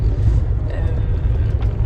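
Steady low engine and road rumble from inside a heavily loaded car driving on a very cold early morning, continuous and fairly loud with no clear speech.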